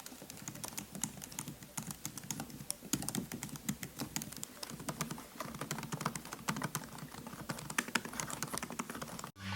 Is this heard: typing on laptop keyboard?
yes